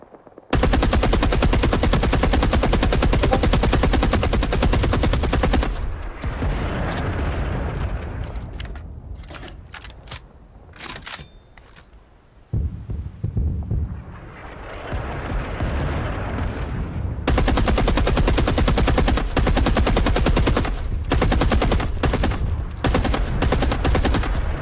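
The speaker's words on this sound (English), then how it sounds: "Barrage inbound. Take cover." Sustained barrage of video game gunfire, dense machine-gun bursts and booming artillery hammering almost without pause, thinning briefly midway before the full roar returns, loud and close.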